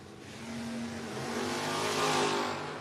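A 1980 Camaro drag car launching early at a no-box drag race, engine note building steadily into a loud, sustained roar with rising intensity, no talk over it.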